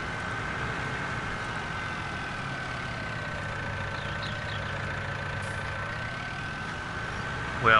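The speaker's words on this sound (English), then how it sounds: "one truck that we use is a British made truck." A British-made farm truck engine idles in a low, steady rumble throughout, at moderate distance with no other prominent sounds.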